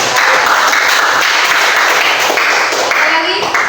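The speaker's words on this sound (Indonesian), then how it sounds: "Oke, kita berikan tepuk tangan." Classroom students clapping together during a science lesson, a brisk, continuous round of applause at close range with a teacher's voice faintly mixed in.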